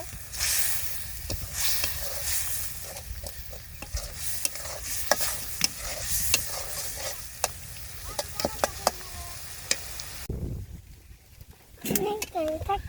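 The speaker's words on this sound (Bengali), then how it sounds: "লবণ একটু ভালোভাবে কষে নি মশলাটা" Ginger and cumin paste with salt fries and is stirred in a pan, a dense steady sizzle with repeated scraping strokes under intermittent talk, quieting near the end before a few clattering stirs.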